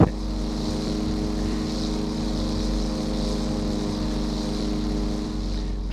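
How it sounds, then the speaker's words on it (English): Small airplane engine in DayZ, a loud steady propeller drone with a low rumble and a continuous whine, close and unbroken throughout, with no talk. "Looks like he's taking off in the airplane."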